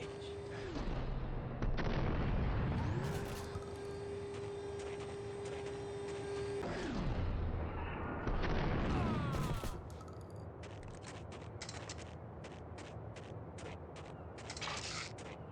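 Shotgun blasts from Max Payne boom out amid game action, a series of heavy shots with mechanical pumping and clicking between them, loud and close.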